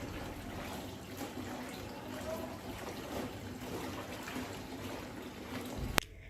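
Water runs steadily from a household tap in a home, a continuous soft splashing flow with a brief sharp knock near the end.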